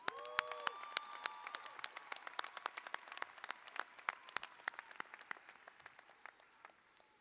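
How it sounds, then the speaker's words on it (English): Scattered, sparse clapping at a commencement ceremony, with distinct individual claps at an irregular rhythm rather than a dense roar. "Let's give Kudrat another round of applause."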